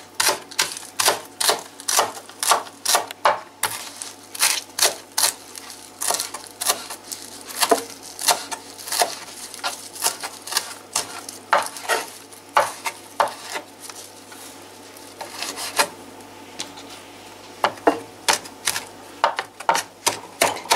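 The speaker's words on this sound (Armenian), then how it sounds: "շատ մանր կտրատել" A knife chopping parsley very finely on a board, sharp rapid taps in uneven bursts and runs, close and crisp, with short pauses between rounds of chopping.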